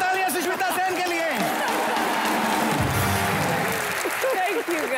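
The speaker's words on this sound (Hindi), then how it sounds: "जोरदार तालियां सुष्मिता सेन के लिए" A studio audience on the TV comedy show Comedy Nights With Kapil applauds and cheers loudly for Sushmita Sen as she arrives. A continuous wash of clapping plays, with voices rising over it.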